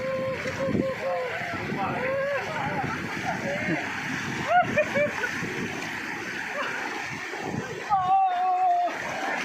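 Water splashing and pouring while a bicycle is washed outdoors, continuous and fairly loud with wind noise and a few squeaks and distant voices over it.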